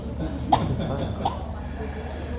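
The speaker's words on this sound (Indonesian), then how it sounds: "banyak yang batuk." Two short coughs from audience members in a histology lecture hall, the first sharper and the second softer about a second later, over a steady low room murmur and faint talk.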